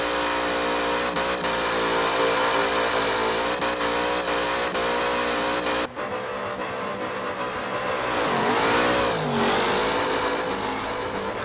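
A race car drifts and slides through a sharp final turn at Yas Marina during a World Race Series event, its engine roaring loud and continuous with rising and falling revs as the tyres scrub.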